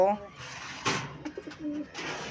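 Soft pigeon coos murmur in the background, joined by a brief louder flutter and a few faint chirps, with a person talking over them.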